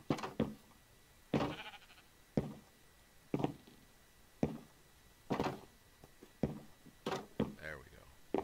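Short bleating calls from a sheep in Minecraft repeat every second or so, some closer together toward the end, over a quiet background.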